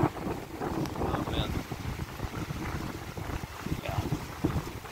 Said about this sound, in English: Yeah, you can really see that wind coming in from where I'm at.